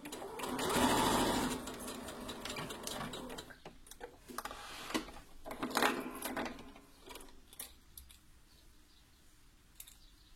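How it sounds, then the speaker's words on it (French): Sewing machine stitching a shirt facing between two pins, running steadily at moderate volume with small clicks and handling noises mixed in, no voices. "je vais coudre entre mes deux aiguilles ici"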